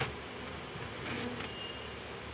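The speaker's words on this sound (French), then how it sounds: "les petites abeilles qui sont là, elles sont en train de ventiler pour faire un petit courant d'air dans la ruche pour évacuer la fumée" Honeybees fanning their wings at an open hive to clear out smoke make a steady, close buzzing drone with no voices over it.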